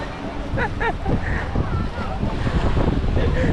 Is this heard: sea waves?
yes